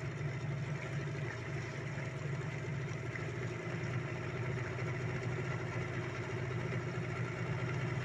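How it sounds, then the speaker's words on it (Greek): A rescue boat's engine runs at a steady idle-like drone as it arrives through flooded streets near Palamas, a continuous mid-pitched hum with no talk over it. "Η πρώτη βάρκα μας έχει φτάσει"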